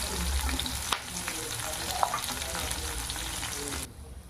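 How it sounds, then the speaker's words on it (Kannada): Chillies and spices frying in a pan for a mutton dish, a steady close crackling sizzle with occasional stirring clicks, fading out near the end. "ಎಲ್ಲ ಇಂಗ್ರೀಡಿಯೆಂಟ್ಸನ್ನು ಒಂದೊಂದಾಗಿ ಆ್ಯಡ್ ಮಾಡಿಕೊಂಡು ಕ್ಲೀನಾಗಿ ಫ್ರೈ ಮಾಡ್ಕೊಳ್ಳೋಣ"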